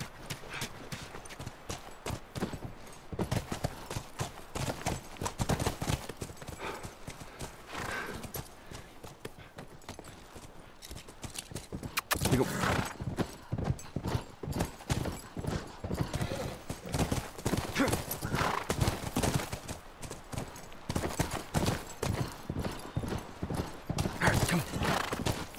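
Horses' hooves clip-clop in a steady walking rhythm throughout a scene in The Last of Us Remastered, close and fairly loud, with an occasional whinny and brief spoken lines over the hoofbeats.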